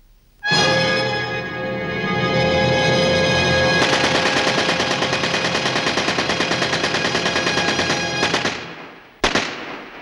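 Machine gun fire in the 1969 Yugoslav war film The Bridge: a loud, sustained barrage of rapid shots lasting around eight seconds, then one sharp final report after a brief pause.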